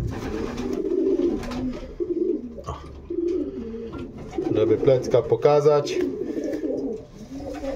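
Pigeons coo in a pigeon loft, soft throaty calls repeating close by, with someone talking over them and some rustling.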